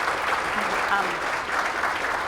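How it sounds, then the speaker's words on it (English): A crowd applauds steadily, a dense wash of clapping at moderate volume lasting the whole moment. "let's have another warm round of applause for Amanda"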